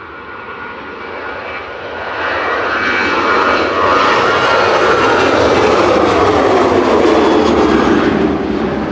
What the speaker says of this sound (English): This is Ryanair heading off to Londonderry